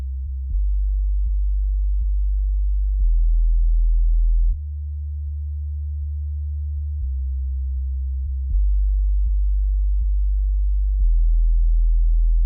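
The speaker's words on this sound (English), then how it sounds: "The sound is a simple sine wave being generated by Serum." A soloed sub bass from the Serum synthesizer: a plain sine wave on an initialized patch, heard as a deep, steady low tone held in long notes that step between pitches, with nothing else in the mix.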